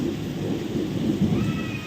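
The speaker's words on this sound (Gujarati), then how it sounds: "એક ધારો ગાજે છે અને વીજળી પણ થાય છે" Thunder rumbles low and continuously through a heavy downpour, with the steady hiss of rain on surfaces all around.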